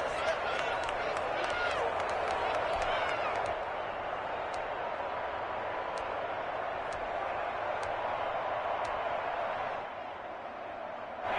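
Steady crowd roar and cheering at a football video game, a broad continuous wash that holds loud for about ten seconds, then eases slightly, with faint scattered claps on top and a commentator's voice mixed in.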